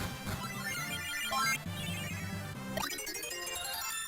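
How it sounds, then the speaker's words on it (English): Cheerful electronic jingle from Kirby Super Star Ultra as Kirby picks up the cell phone item in the Great Cave Offensive, a bright run of rising synth notes in game music with no talking. "We get the cell phone, which I believe is an Amazing Mirror reference."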